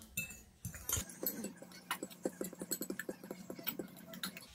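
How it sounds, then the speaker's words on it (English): A utensil stirring dry bread ingredients for soft skillet bread in a bowl, giving a quiet run of quick, irregular clinks and taps against the bowl, close and faint, with no talking. "So we're gonna give our dry ingredients a little mix"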